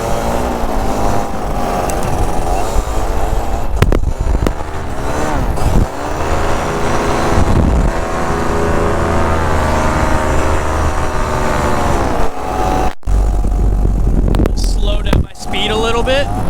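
A paramotor engine drones loudly in flight, with its pitch rising and falling as the throttle changes and heavy wind rumble against the microphone. There are brief dropouts near the end.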